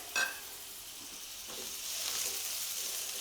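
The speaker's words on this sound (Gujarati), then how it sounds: "અહીંયા વઘાર સરસ કકડી ગયો છે. સમારીને રાખેલા મૂળાનો સફેદ ભાગ ઉમેરી દઈશું." Radish pieces are added to hot oil for a tempering and sauté, giving a brief sharp crackle at the start and then a soft, steady sizzle that slowly builds. The frying is faint and close, with no talk.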